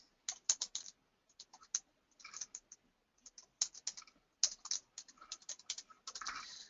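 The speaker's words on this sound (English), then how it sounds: "We can type in whatever we like." Text is typed on a computer keyboard in bursts of quick, close key clicks separated by short pauses, quiet and with no talk.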